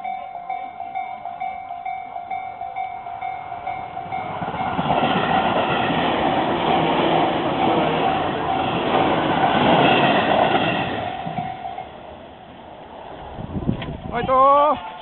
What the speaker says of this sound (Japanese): 電車通過、ランナーストップです。